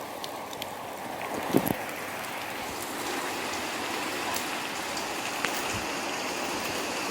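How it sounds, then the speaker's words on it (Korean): A sudden heavy downpour makes a steady, dense hiss that continues throughout, with a few louder thumps and scattered drips on top and no voices. "비가 정말 많이 옵니다."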